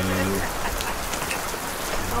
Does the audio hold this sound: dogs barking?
no